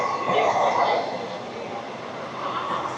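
The 16850 Rameshwaram–Tiruchchirappalli Express rolls across the Pamban bridge, a broad, steady rumble of carriages heard from onboard, with a voice speaking over it.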